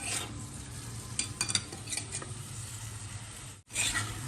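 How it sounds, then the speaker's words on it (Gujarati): Tomatoes sautéing in a pan for a dry tomato sabzi, with a steady close sizzle and several bursts of spoon-scraping stir clatter, then a short break before the frying resumes. "આ છે ટમેટા એકદમ ટમેટાને સાતળવા દઈશું"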